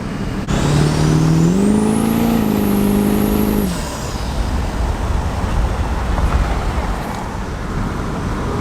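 A built Duramax diesel truck accelerates hard, its loud engine tone rising steadily for about three seconds with a climbing high whine, then cutting off into road and cabin noise.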